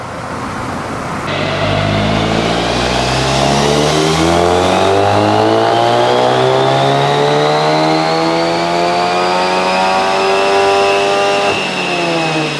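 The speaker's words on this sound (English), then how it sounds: "MK8 GTI on the dyno" A VW MK8 Golf GTI engine revs hard on a dyno, loud and close, climbing steadily in pitch through a sustained full-throttle pull before easing off near the end.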